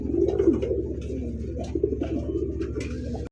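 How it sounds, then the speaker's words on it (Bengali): A male Andalusian fancy pigeon coos repeatedly up close, each low throaty rolling call coming in quick succession over a faint steady background hum. "অ্যান্ডোলেজিয়ান শৌখিন আমেরিকান নট ডাকতেছে, মাদি জোড়া নেওয়ার জন্য পাগল হয়েছে ভাই"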